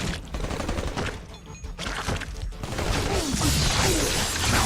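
Rapid bursts of gunfire and crashing impacts from a battle in the Marvel Ultimate Alliance 2 video game, dense and continuous, growing louder toward the end with a few brief voice-like sounds mixed in.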